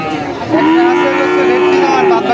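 A Holstein Friesian cow at a large cattle market gives one loud, drawn-out moo that runs for most of the clip, close to the listener.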